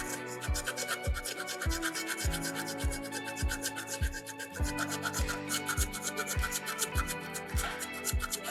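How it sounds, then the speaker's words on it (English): An abrasive from a soapstone carving kit scrubs stone in steady back-and-forth strokes, giving a rhythmic rasping scrape repeated about twice a second, close and moderately quiet, with no voices. "scrubbing that rock away"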